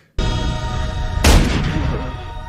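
A sudden loud gunshot blast from The Sixth Sense soundtrack, followed by a sharp second crack and a lingering, echoing rumble.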